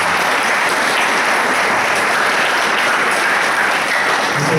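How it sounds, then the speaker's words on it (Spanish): Steady, dense applause from an audience at an international teachers' gathering fills the room loudly and evenly, with no voices over it. "un fuerte voto de aplausos"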